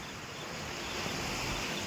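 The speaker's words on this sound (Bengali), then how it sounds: "আর এই ঢেউয়ের আওয়াজ মারাত্মক, দুম ঝাপাট ঝাপাট করে জলের ঝাপটা" Ocean waves washing onto the beach of Mousuni island, a steady, broad roar of surf mixed with wind rushing over the microphone, with no distinct breaks.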